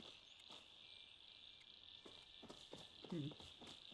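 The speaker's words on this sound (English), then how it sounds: "I can hear cicadas." Steady, high-pitched chirring of cicadas fills a nighttime scene in the video game Palia, a continuous insect drone with a few soft patters and faint thumps beneath it.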